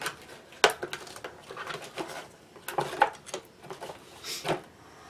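A cardboard camera box package is ripped open up close, giving sharp tearing and crinkling bursts with scattered thuds and rustles.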